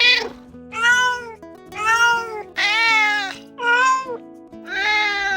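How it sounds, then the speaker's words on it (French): A cat meows about six times in a row, clear, close and fairly loud, each call a drawn-out tonal cry with short pauses between them. "Pour parler, le chat miaule."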